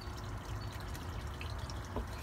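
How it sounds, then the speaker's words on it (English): Water pumped from a garden koi pond pours into a barrel, a faint, steady trickle and splash with a few small drips and no voices. "That barrel's filling up."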